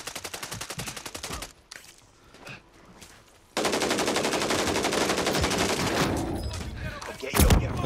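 Rapid automatic gunfire in the Call of Duty video game, a burst of close shots, a short lull with scattered sounds, then a longer dense volley of loud rattling fire.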